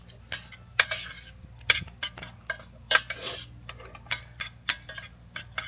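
A spoon stirs and scrapes through Thai style coconut rice in a pot, giving a run of close, irregular clinks and rasping scrapes with short pauses between strokes.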